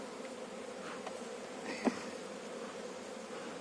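Honey bees hum steadily inside a newly split hive during a frame inspection, a dense close buzzing with one brief sharper knock partway through.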